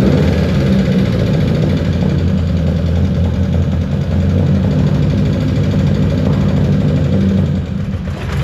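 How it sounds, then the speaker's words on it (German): A BMW 2002 engine idling roughly with heavy clattering, a loud, close, steady low rumble with an uneven knocking pulse throughout, no voices. "das Teil läuft ziemlich unrund und da hinten habt ihr sehr massives Klackern"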